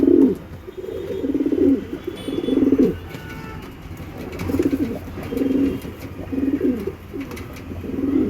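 Pigeons in a loft coo in repeated soft, throaty bursts close by, several phrases rising and falling in a loose rhythm with faint background noise and no talk.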